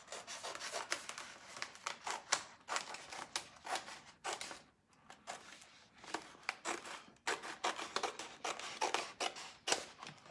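Repeated rasping cuts through a transfer sheet along its edge, a steady run of scratchy strokes with brief pauses, close and moderately loud with no talking.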